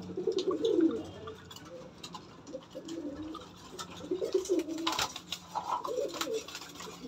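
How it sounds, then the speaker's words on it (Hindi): Pigeons coo repeatedly while drinking water and feeding on grain, several birds close by in soft, rolling calls with occasional flutters and clicks. "कबूतर सब दाना पानी स्टार्ट कर दिया है"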